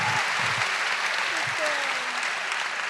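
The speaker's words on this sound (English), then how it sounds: "rightful applause break." Audience applause rolls through the Royal Festival Hall, a loud continuous wash of clapping from a large crowd, with a few voices and cheers showing through.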